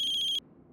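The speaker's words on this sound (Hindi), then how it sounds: "सनी के राजकोट वाले घर की लैंडलाइन से फोन है।" A landline telephone rings with a bright electronic warble that cuts off abruptly partway through, leaving quiet room tone.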